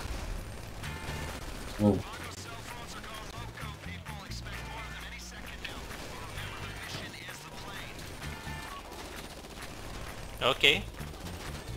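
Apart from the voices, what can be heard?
gunfire in video game GTA Online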